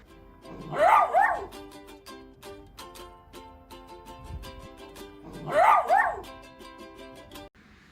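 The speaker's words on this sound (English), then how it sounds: "Buster, strapped into the Aero Wolf, barked with excitement." Two bursts of excited dog barking, several seconds apart, ring out over a bright plinking musical backing.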